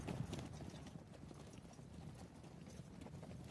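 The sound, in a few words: horse hooves clip-clopping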